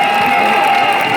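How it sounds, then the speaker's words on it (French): Crowd cheering and applauding for the teams at an Intervilles games event in an arena, a loud, steady wash of clapping and voices that fills the whole moment. "On peut les applaudir, hein."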